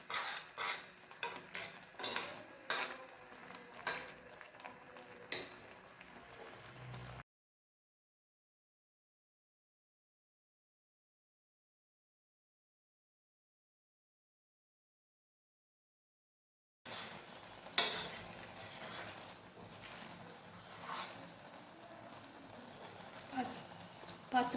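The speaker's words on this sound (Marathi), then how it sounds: "आपण हे आपलं क्रश शिजवून घेतोय मीडियम गॅसवर। हे असं हलवत राहायचं।" A spoon stirs and scrapes through lemon crush pickle cooking in a pot over a medium gas flame. The clinks come intermittently and softly, with a long stretch of silence in the middle.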